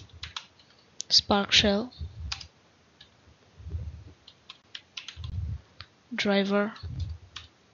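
Commands being typed on a computer keyboard, heard as scattered, quick clicks and short key bursts in between a man's speech.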